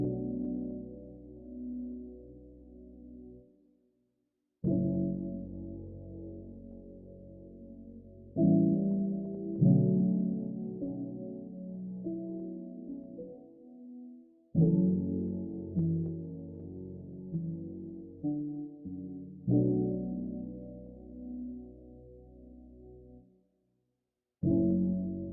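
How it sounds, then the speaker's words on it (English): Soft, mellow piano from the LABS Soft Piano VST playing a dominant seventh chord, sustained chords sounded several times with gentle attacks and short gaps between them, quiet and warm without other sounds. "By the way, this piano is a lab soft piano."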